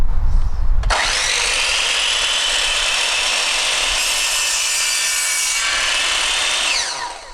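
A power tool cuts wood into strips about 12 centimetres long, a sustained loud whining rasp starting abruptly after a brief knock and tapering off at the end.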